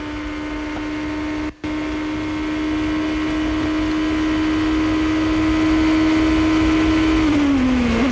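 A 2007 GP2 race car holds its engine near the rev limit on the Kemmel Straight at Spa, a loud, steady high-pitched whine sustained for several seconds with a brief dropout, then falling slightly at the end.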